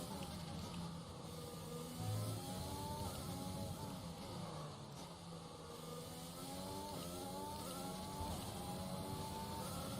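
A Williams Formula 1 car in the racing game F1 2020 revs hard around the Abu Dhabi or Australia circuit, its engine note climbing and dropping through repeated gear changes in a steady, continuous whine at moderate loudness.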